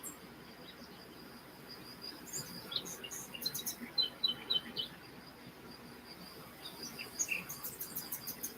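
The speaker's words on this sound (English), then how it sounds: "Uh-oh, we got more birds." Small birds chirping outdoors in short, scattered bursts of high tweets, moderately faint over a steady hiss of ambient background noise, with no talking.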